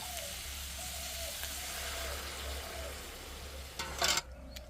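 Small fish and gourd shoots being stirred in a pan give a faint, steady sizzle with light scraping, ending in a brief louder clatter near the end, with no talking.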